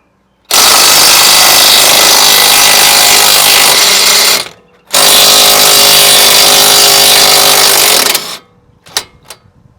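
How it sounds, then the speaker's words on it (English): Impact gun spinning a 21mm socket to back off a front strut nut on a 2013 Dodge Grand Caravan, two loud sustained hammering bursts of about four seconds each, close up, followed by faint clinks. "I'm going to use a 21mm socket with an impact gun and back these things off"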